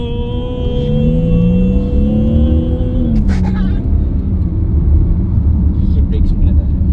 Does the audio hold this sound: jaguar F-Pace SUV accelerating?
yes